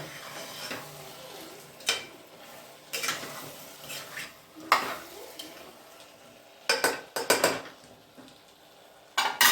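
A utensil scrapes and knocks against a pan in irregular strokes, stirring a stuffed brinjal and potato curry, with quiet sizzling between the louder stirring clatters.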